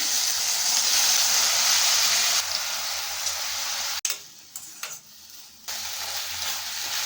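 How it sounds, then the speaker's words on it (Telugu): Eggplant pieces dropped into a hot pan of frying onions and ginger-garlic paste, a steady close sizzle that breaks off and shifts midway, then resumes with scraping stir noises. "ఇప్పుడైతే ఉప్పు నీళ్ళలో వేసుకున్న వంకాయ ముక్కలని వేసుకుందాం"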